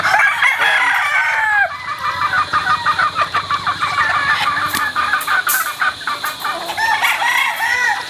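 Several roosters crow loudly and close by, with repeated overlapping cock-a-doodle-doos over a background of clucking fowl in a busy chicken yard.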